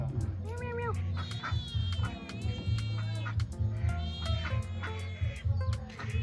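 A cat meows repeatedly in a rural Tai Lue village home in Laos, its rising and falling cries fairly close and recurring over low background noise and faint voices.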